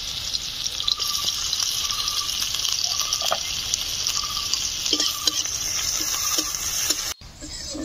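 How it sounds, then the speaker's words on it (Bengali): Onion and garlic paste frying in hot oil, a steady bright sizzle with occasional stirring clinks and scrapes, close and continuous before cutting off abruptly near the end. "তেল গরম হয়ে গিয়েছে, আমি পেঁয়াজটা দিয়ে দিচ্ছি।"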